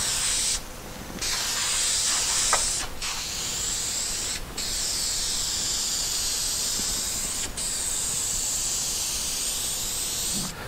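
Aerosol spray can applying heavy paint coats to a part from a 1973 Moto Guzzi motorcycle, several long steady hissing bursts close by with short pauses between them, no voices.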